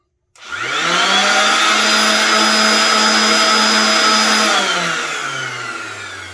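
An Amazon PioneerWorks 6-inch random orbital sander runs alone, a loud steady high-pitched electric whine and buzz that holds for several seconds before its motor tone drops as it winds down.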